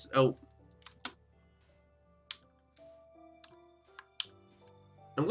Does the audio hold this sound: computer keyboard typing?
yes